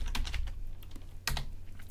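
A computer keyboard is typed on while renaming a file, giving quick clusters of light clicking keystrokes, a brief pause, then another burst of taps, close and alone.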